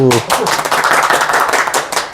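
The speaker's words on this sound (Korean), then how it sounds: "자, 그럼 박수로 환영할게요. 박수!" A small group applauds to welcome a guest to an indoor talk, a short burst of close, brisk clapping that begins just after a voice stops and runs steadily to the end.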